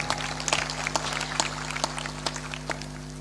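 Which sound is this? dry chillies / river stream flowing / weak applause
weak applause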